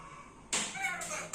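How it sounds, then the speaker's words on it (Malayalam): A cat meows a couple of times at close range in a home where a parrot is kept, the calls bright and fairly loud after a quiet start. "പൂച്ച വരട്ടെ."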